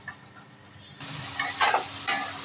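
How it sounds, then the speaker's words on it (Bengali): Spices sautéing in a pan for a thin magur catfish curry, a soft rustle that jumps to a louder sizzle halfway through, with a few scraping stirs near the end. "এখন শুধু আমি কষাবো দু মিনিট চাপা দিয়ে দেবো"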